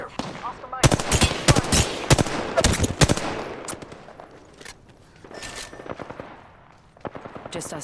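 Gunfire in the shooter game Apex Legends, several rapid automatic bursts of sharp cracks close by, then scattered single shots and pauses, with occasional voice chatter underneath.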